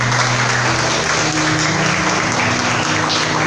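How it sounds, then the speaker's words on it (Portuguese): Church congregation at a deliverance service applauding together in a dense, steady roar of claps that fills the whole stretch, loud and close with no pauses. "Dê uma linda salva de palmas para Jesus."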